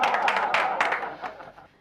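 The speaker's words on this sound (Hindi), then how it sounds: "तालियां बजाओ।" A short burst of clapping from a group, fairly close and lively at first, then fading away within about two seconds.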